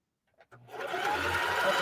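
Sewing machine stitching a straight line on a quilted placemat, starting after a brief click and then running steadily with a continuous mechanical whir that stays close and fairly loud to the end.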